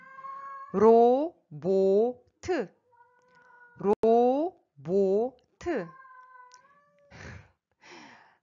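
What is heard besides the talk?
cat meowing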